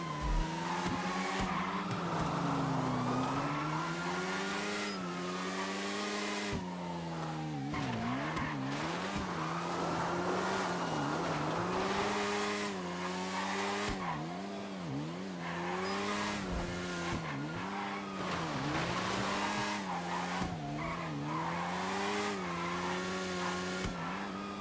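Race cars in GTA 5 roleplay racing, engines revving up and down through gear changes with repeated tire squeals and skids, loud and continuous with no talking.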